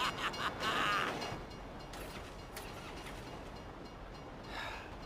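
A train rolls past in the video game GTA 5, a rumbling, creaking rail passage with a few clattering bursts, loud at first and then settling into a steady roar.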